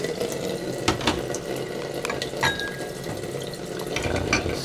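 A Panasonic water filter dispenses alkaline water in a steady running stream, a continuous close splashing pour with a few brief clinks over the flow.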